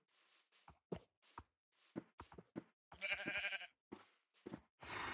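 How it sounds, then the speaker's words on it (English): Sheep bleating in a series of short, close, nasal calls separated by brief pauses, with a longer wavering bleat in the middle and another at the end. "All right, two sheeps, come on."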